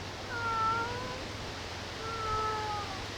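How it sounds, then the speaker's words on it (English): A house cat meows twice in a quiet indoor room, two drawn-out, moderately faint calls about two seconds apart with no talking. "you can hear my cat."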